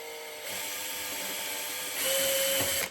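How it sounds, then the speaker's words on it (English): A power drill whines at high pitch, its tone rising as it bores straight through a wooden shield and winding down after about three seconds. "And we just drill straight through."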